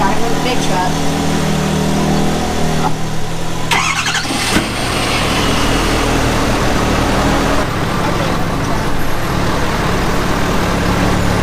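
A Can-Am off-road vehicle idles while warming up, a constant low rumble broken by a brief squeal and a few clunks over roughly eleven seconds.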